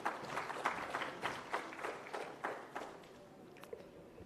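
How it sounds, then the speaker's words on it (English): An audience gives a round of applause at a public government event in Andhra Pradesh, moderate clapping with uneven pulses that thins and fades toward the end, heard at a distance. "Round of applause, please, ladies and gentlemen."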